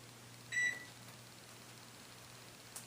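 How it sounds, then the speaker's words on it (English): A small timer gives one short, clear electronic beep, then the quiet room tone carries on with a faint low hum. "my little timer's going off to remind me to reset my video"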